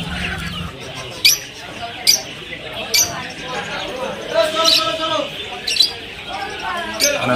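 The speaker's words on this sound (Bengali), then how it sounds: "লাভবার দেখতে পাচ্ছেন, লাভবার আছে, এগুলো সবই সেলের জন্য।" Caged lovebirds for sale at a poultry and pet market in Nepalgunj give sharp, repeated squawks at irregular intervals amid background chatter and crowd noise.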